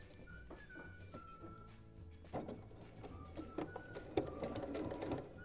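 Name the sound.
sewing machine stitching a protective mask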